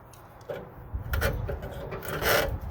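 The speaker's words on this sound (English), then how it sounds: "just using a pair of vice grips, looks like I should be able to, by turning" Vice grips turning a seized screw inside a Pit Boss 700FB pellet grill's auger housing, producing a few close, gritty scraping and rasping bursts of metal grinding against metal, with short pauses between the turns.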